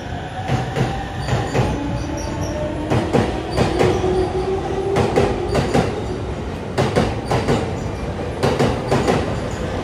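Train pulling into a platform at Ikebukuro Station, wheels rumbling with a rhythmic clickety-clack, a drawn-out squeal of wheels or brakes, and steady station ambience throughout.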